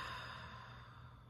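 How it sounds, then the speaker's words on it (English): A slow, full exhalation during a guided breathing exercise, a soft steady breath out heard close over a low background hum. "And a full breath out."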